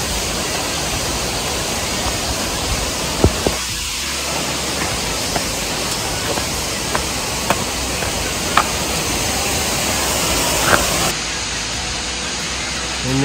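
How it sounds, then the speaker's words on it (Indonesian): Curug Maung waterfall roars as a dense, steady broadband rush close by, with small clicks and knocks on top and faint voices in the background. "air terjun Curug"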